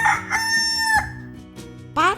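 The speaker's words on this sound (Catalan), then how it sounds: "Els galls canten durant tot el dia, però comencen ben aviat al matí." A rooster crows nearby in a loud, drawn-out cock-a-doodle-doo, followed by a shorter second call, set against a soft musical background.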